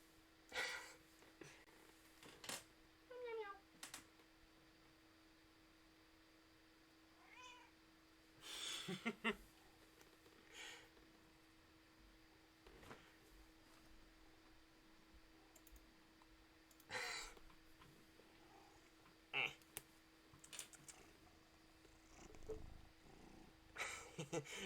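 A pet cat meows and purrs near a quiet room mic during a game stream, scattered short calls over soft purring, with intermittent keyboard clicks and a person talking at times.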